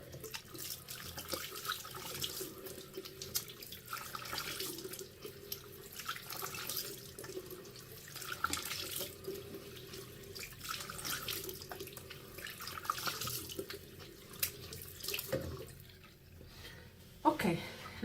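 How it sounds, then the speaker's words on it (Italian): Tap water runs into a bathroom sink while a face is rinsed, a continuous splashing hiss that swells and dips with hands moving under the stream, with brief quieter gaps and a closing splash. "Vado a risciacquare."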